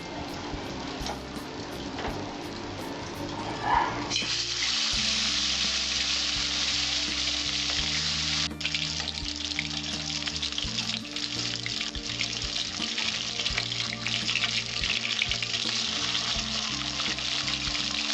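Pieces of pomfret fish hit hot oil a few seconds in, giving way to a loud, steady sizzle and crackle that runs on continuously after some brief running water and kitchen clatter.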